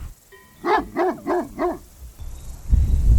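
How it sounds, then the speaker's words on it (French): A large livestock guardian dog barks four times in a quick, deep series, close by, followed by rustling and wind-like noise. "Donc c'est des chiens qui sont très aboyeurs."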